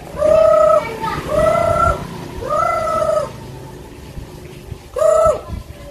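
Loud nearby chickens give drawn-out clucking calls, with a rooster-like crow among them. Three long calls come in quick succession, then a pause and a fourth call, over a noisy background.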